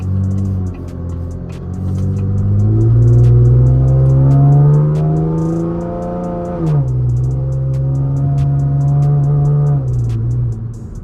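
A V6 Camaro fitted with an 80mm throttle body revs up, its engine rising to a sustained loud drone, dipping and holding again before settling back toward idle, close by with no voices.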